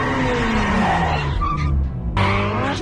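A modified car with a turbo engine skids with loud, sustained tire squeal over a roaring engine, dropping briefly in the middle before a second burst of screeching near the end.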